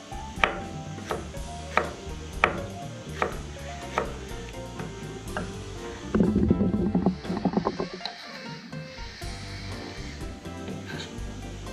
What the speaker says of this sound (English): Now I'm gonna add just a little bit of jalapeno, slice real thin.